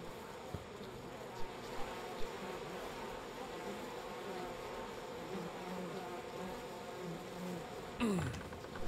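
A swarm of bees buzzes inside a house, a continuous faint droning hum with a few soft taps, ending with a brief louder rising sweep.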